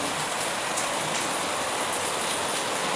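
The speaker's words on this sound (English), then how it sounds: "It's raining" Steady rain falls in a dense, even hiss that holds at the same level from start to finish, with no voices and no separate drops standing out.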